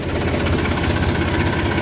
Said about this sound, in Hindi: दोस्तों ट्रैक्टर बंद कर दिया है ला के।